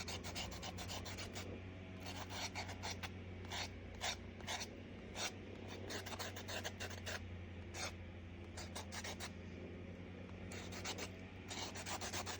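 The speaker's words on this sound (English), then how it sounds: "I sand things down, smooth things off." A craft piece, fridge magnets or cover minders, is sanded smooth by hand: close, dry rubbing and scratching strokes in a fairly steady rhythm, repeated many times with brief pauses between and no talking.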